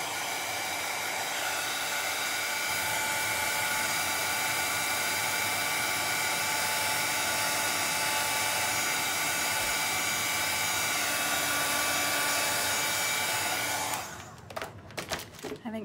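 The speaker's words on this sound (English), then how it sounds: "I'm gonna throw this dryer on here again just a second." A handheld dryer blows a steady, loud rushing hiss to dry wet paint on a gnome door hanger craft, running continuously before cutting off near the end.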